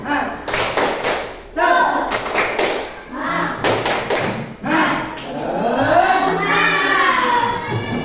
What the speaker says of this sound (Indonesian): supaya kita lebih semangat, tepuk semangat